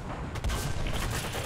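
Tank cannon fire in an online tank battle game, a dense booming blast with rumbling low end and sustained crackle, heard at moderate level with no speech.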